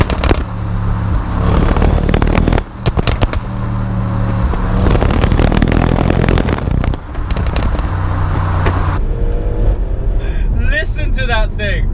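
Audi RS6 Performance with a V8 twin-turbo engine revving hard in a loud, sustained roar with brief dips between throttle blips and sharp pops, a voice heard over it.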